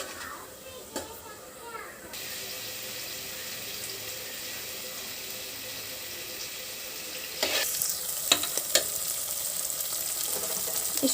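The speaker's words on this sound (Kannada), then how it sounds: "ಈಗ ಅದು ಹಸಿ ವಾಸನೆ ಹೋಗೋವರೆಗೂ ಫ್ರೈ ಮಾಡ್ಕೊತಾರೆ ಚೆನ್ನಾಗಿ" Ground masala paste with green chillies fries in oil for a home-cooked pulao, a steady hiss of sizzling throughout with a few sharp clinks and scrapes of stirring toward the end.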